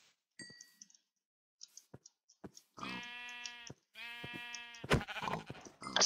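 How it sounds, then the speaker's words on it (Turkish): Sheep in Minecraft bleat two or three times in a row, each a buzzy wavering call, separated by short clicks and soft taps against near silence. "Şurada bir tane koyun var"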